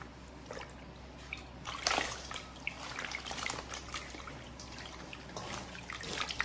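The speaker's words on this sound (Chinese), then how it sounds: "然后给它加上适量的清水，给它清洗干净" Oyster mushrooms with the roots trimmed off are washed by hand in a bowl of water: soft, quiet splashing and trickling with irregular sloshes and drips, close by and without speech.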